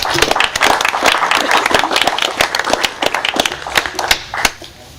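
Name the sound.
applause at a board of aldermen meeting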